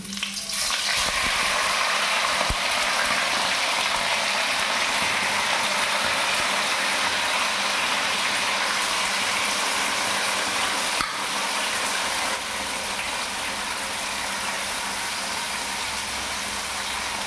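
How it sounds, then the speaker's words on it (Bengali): Chicken pieces, about two kilograms marinated for chicken biryani, frying in hot oil, a dense continuous sizzle heard up close after an initial splash and clatter, steady throughout with no speech. "তেলটা গরম হয়ে গেছে, চিকেনটা এক এক করে দিচ্ছি"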